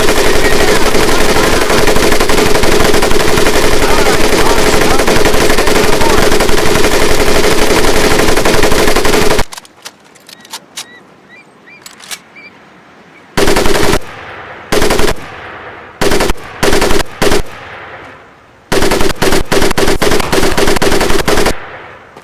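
A .30 caliber machine gun in Medal of Honor Pacific Assault fires one long, loud, unbroken burst, then a series of shorter bursts separated by brief pauses.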